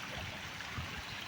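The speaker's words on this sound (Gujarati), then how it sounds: "પાણી ચાલુ છે" Irrigation water runs through a channel in a farm field, a quiet, soft gurgling flow that stays faint and even over a brief moment, with no voices.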